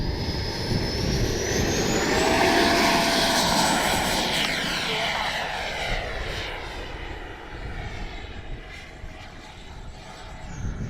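An FMS 80mm F-86 Sabre RC electric ducted-fan jet on its takeoff run, giving a loud close whine that rises and sweeps in pitch before fading as it climbs away.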